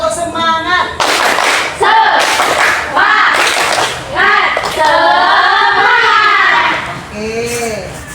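A seventh-grade class at a junior high school performs a rhythmic clapping chant, sharp hand claps landing in bursts amid loud, close group chanting and talking voices.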